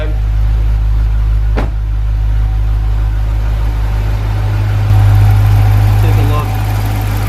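A Dodge Challenger R/T HEMI idles steadily with its air conditioning running at maximum, a low constant engine hum with a slight step in level partway through, heard close with no talk over it.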